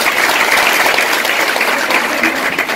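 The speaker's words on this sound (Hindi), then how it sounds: "तो एक बार जोरदार तालियां होनी चाहिए" A live event audience in Bhopal claps steadily and loudly, a dense continuous wash of applause with no voices over it.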